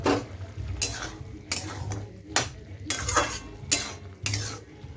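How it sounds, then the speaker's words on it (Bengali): Metal utensils scrape and clatter against a pot while bottle gourd curry (lau ghonto) cooks, a steady series of close stirring strokes about every half second over a low background rumble. "এই লাউ ঘন্ট রান্না হচ্ছে"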